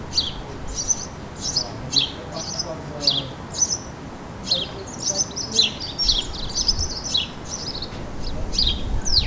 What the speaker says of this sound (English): His call changes, adding a pitched-down whistle.